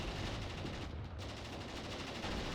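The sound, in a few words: gunfire in video game Mius Front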